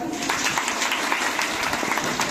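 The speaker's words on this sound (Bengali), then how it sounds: "একটু করতালি কি সবাই" An audience claps at a college welcome ceremony for new eleventh-grade students, a steady, dense patter of many hands, moderately loud and continuous for a couple of seconds.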